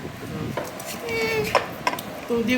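A metal spoon scraping and clinking against a dish while serving hilsa fish, several short sharp scrapes and taps close up amid light kitchen clatter.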